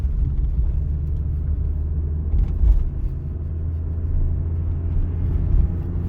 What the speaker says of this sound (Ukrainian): рухаємось, бачите, під'їжджає автомобіль